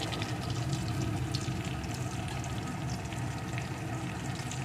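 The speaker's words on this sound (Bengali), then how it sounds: "পেঁয়াজটা একটু ভেজে নিয়ে" Chopped onion fries in a pan with a soft, continuous crackle and sizzle, heard close and at a low level, with no talking.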